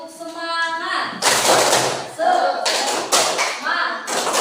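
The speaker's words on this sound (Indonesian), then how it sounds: "Ibu coba berikan tepuk semangat." A group of students answers a teacher's call with a rhythmic tepuk semangat clapping chant in a classroom, bursts of hand claps and shouted words repeating in quick patterned rounds, loud and close, with a voice leading before the claps start.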